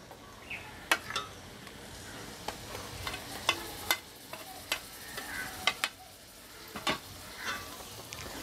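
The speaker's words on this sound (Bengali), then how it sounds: "ভালো করে পেঁয়াজ রসুনের সাথে মিশিয়ে নিচ্ছি।" Spice paste of garlic, ginger, cumin and garam masala is worked into onions and garlic in a pan for yogurt chicken, with sharp, irregular spatula clicks and scrapes over a low, quiet sizzle.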